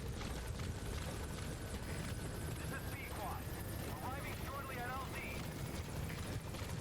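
PEQUOD's helicopter arriving in Metal Gear Solid V: The Phantom Pain, a steady rotor roar filling the scene, with a voice speaking over it.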